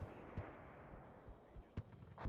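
M109 self-propelled howitzer firing in the WARNO strategy game, heard as three low booming shots spread over a couple of seconds, each a short thud over a steady rumbling battle background.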